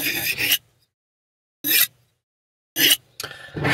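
A steel knife blade being sharpened on the unglazed rim of a ceramic coffee mug, heard as three or four short, close, raspy scraping strokes separated by silent pauses.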